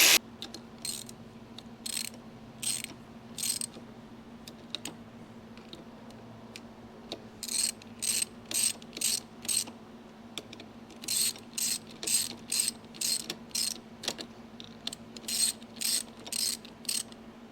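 A hand ratchet tightens the clutch spring bolts on a 1982 Honda XL80S, sounding in repeated bursts of quick clicking strokes with short pauses between, over a faint steady background hum.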